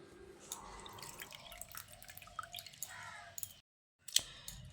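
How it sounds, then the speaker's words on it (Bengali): Drumstick flowers, soaked five minutes in hot water, being strained into a bowl, with close, irregular dripping and splashing of water and soft wet squishes. A brief silent gap comes near the end, then one sharp drip or clink. "এই ফুলগুলোকে আমি ছেঁকে একটা পাত্রের মধ্যে তুলে নিচ্ছি।"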